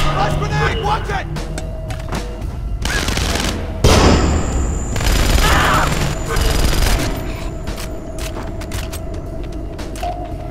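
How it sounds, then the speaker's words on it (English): A flash grenade goes off in a loud burst amid rattling gunfire in Splinter Cell Conviction on PC, with a heavy blast partway through and shouting voices over the shooting. "Flash grenade! Watch it!"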